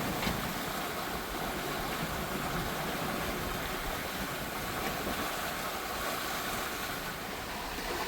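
A sailboat flying a spinnaker across Pacific Ocean waves, heard as a steady, loud wash of water and wind rushing along the hull without pause.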